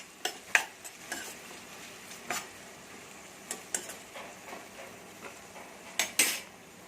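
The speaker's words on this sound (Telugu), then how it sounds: "సాల్ట్ వేయడం వల్ల ఉల్లిపాయలు తొందరగా ఫ్రై అవుతాయి" Sliced onions frying with salt in a pan for chicken gravy, quiet sizzling under sharp intermittent clinks and scrapes of a spoon stirring against the pan.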